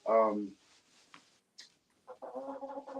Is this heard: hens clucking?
yes